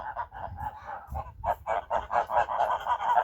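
Several geese and ganders honk repeatedly in a village farmyard, loud nasal calls overlapping in an irregular rhythm that grows busier toward the end, close to the listener.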